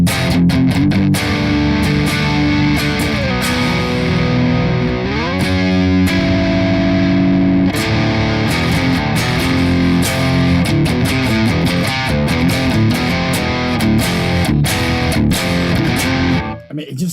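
Electric guitar played through a high-gain amplifier with heavy distortion, chugging riffs and sustained chords with a bend, loud and continuous throughout.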